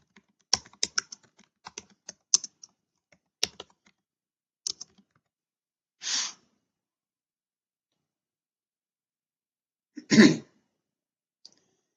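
Sparse, irregular key clicks as a name is typed on a computer keyboard into clinic accounting software, close and fairly quiet, with two louder, breathy bursts like coughs later and no talking.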